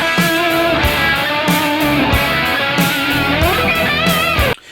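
An overdriven electric guitar plays a section of the solo: loud, close, sustained lead notes with bends and quick picked phrases, cutting off abruptly at the end.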